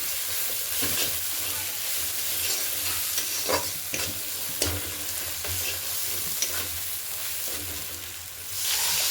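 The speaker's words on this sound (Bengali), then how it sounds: "দিয়ে এবারে ভালো করে মশলাটাকে কষিয়ে নিতে হবে।" Spice paste with Kashmiri chili powder being fried and stirred in a pan, a continuous close sizzle with repeated spoon scrapes, swelling louder toward the end.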